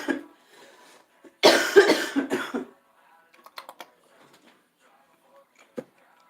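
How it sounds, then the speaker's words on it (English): A person indoors gives a short burst of harsh coughs in the middle of the stretch, with quiet handling clicks and small knocks before and after. "excuse me for all my coughing."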